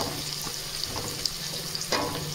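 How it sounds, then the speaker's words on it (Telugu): Onions and green chillies frying in a pan for paneer dum biryani, a quiet continuous sizzle with occasional light stirring taps, no voices. "ఆనియన్స్, పచ్చిమిర్చి ఇవి మొత్తం ఫ్రై అవుతాయి."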